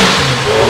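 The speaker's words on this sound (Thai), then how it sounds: "รถมันเพิ่งสตาร์ทใหญ่แล้วเครื่องมันเย็นมันต้องรอรอบหน่อย" A Kawasaki sport bike engine revs loudly just after a cold start, a close, steady, high-pitched roar throughout the brief moment, with no voices.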